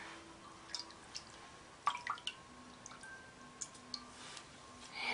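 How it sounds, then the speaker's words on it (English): Clear water drips and trickles softly while a mud mask is being rinsed off a face, with scattered faint close-up droplets and small splashes in a quiet room. "And we're gonna rinse it off your face."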